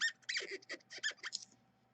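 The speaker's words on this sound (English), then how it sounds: "You hear that squeaking? Some people hate that squeaking." Sharp, rapid squeaks as a cloth or tool rubs alcohol ink off a ceramic tile, a close, irregular series of chirpy bursts that stops abruptly, with no talking.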